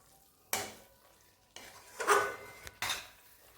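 A spatula scrapes and stirs a chili-powder spice mixture in a pan while coriander rice is being made, giving about three distinct scraping strokes separated by brief quiet gaps, close and fairly clear.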